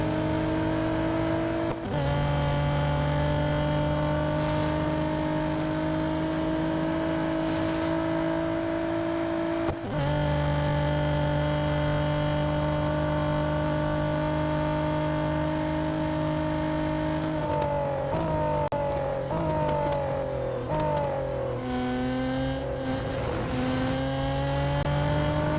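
Race cars in the mobile racing game Real Racing 3, their engines droning steadily with shifting pitch as they jostle and overtake, loud and continuous with no talking.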